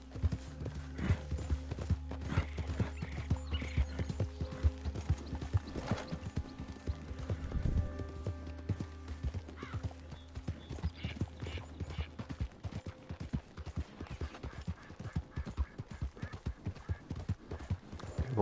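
Horse hooves gallop in a rapid, steady clip-clop through a Red Dead Redemption 2 ride, loud and close, with a sustained tonal bed under the first two-thirds and an occasional whinny.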